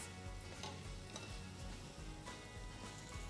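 Onions sizzle and crackle steadily in a hot pan for tikka masala, with occasional soft stirring scrapes, close up and without talk.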